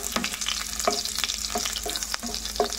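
Garlic aromatics sautéing in olive oil in a pan, a constant loud sizzle broken by a regular rhythm of utensil scrapes and stirs, close up, with nobody talking.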